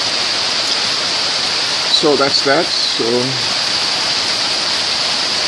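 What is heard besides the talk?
heavy stormy rain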